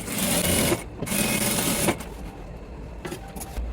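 Sewing machine stitching a zipper onto trousers, running in two loud bursts of rapid, rattling needle strokes with a short pause between, followed by quieter mechanical clatter and a brief final run.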